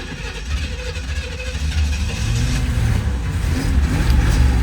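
A 1987 Pontiac Firebird, pulled from the woods after sitting 22 years, has its engine turned over into a loud, rough, low rumble that grows steadily stronger as it runs, close and with no talk.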